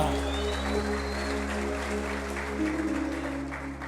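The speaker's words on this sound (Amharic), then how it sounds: "እልልታ ለጌታ ጭብጨባ ለጌታ" A worship congregation claps steadily over sustained musical accompaniment, a dense wash of hands continuing throughout with no clear ululation standing out.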